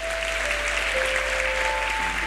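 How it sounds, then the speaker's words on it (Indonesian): A church congregation applauds at the close of a sermon and prayer, steady mid-distance clapping over a low hum, with a faint sustained organ or keyboard tone beneath. "boleh berikan tepuk tangan buat Tuhan kalau mau"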